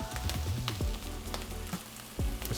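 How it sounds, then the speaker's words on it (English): Garlic sizzling in a hot pan, a soft steady frying crackle with faint stirring clinks, heard quietly up close. "Now we'll add the garlic."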